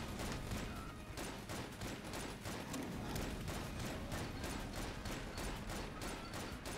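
A serpent companion in the game Enter the Gungeon fires barrages of bullets, heard as rapid, dense bursts of gunfire in quick rhythmic volleys that keep on for several seconds.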